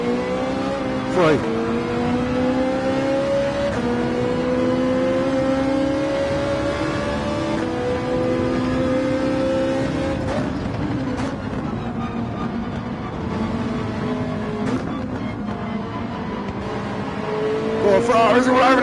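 Race cars roar through a Gran Turismo 7 race played in VR on a PS5, engines droning steadily with rising revs and gear shifts and several cars nearby, while someone talks briefly over the engine noise.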